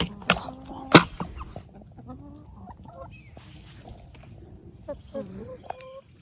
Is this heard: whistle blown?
no